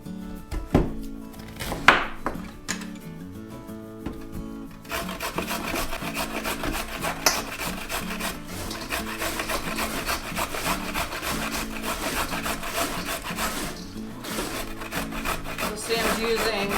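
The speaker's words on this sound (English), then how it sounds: "This is an antique cabbage shredder that my aunt had found" An antique hand-operated cabbage shredder cuts through cabbage for sauerkraut in a winter kitchen in Maine, giving a steady woody rasping and rubbing that runs on continuously with a few sharper knocks near the start.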